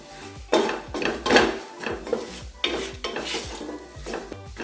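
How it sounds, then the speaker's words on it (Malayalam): Garam masala and turmeric powder are sautéed in a pan for a soy biryani, heard as scraping and clattering stirring against metal with light sizzling underneath, uneven strokes close by and no talking. "പച്ചമണം മാറണ വരെ ഒന്ന് വഴറ്റി കൊടുക്കുക"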